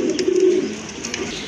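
Pigeons offered for sale, local and foreign breeds including a satin, give a low, throaty coo close by, a steady rolling murmur through the short stretch with no talk over it.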